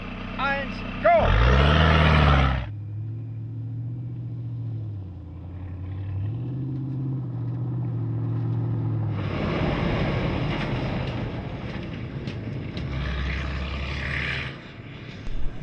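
Rally cars at the start of a desert rally stage around the Tempelberg in Tunisia, with engines droning and revving, loud bursts of acceleration at the start and again later, and a voice speaking over the engine noise.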